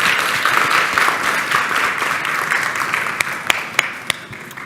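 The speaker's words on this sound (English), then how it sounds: "one more round of applause for everybody" A conference audience at a morning summit applauds, with dense clapping that slowly fades into a few last scattered, sharp claps near the end.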